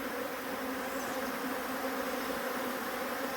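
A close, steady buzzing hum of many bees fills the air without pause, with no voices.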